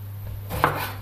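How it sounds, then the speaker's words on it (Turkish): A knife cuts eggplant into large pieces, a single close, sharp chop on a board against a low steady hum. "Patlıcanlarımı iri iri doğruyorum."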